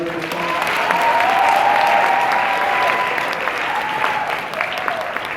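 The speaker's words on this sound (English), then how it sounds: "Another round of applause, please, for our one-star trainer today." An audience at a live training session applauds continuously for several seconds, dense and fairly close. A faint tone or voice hums underneath at times.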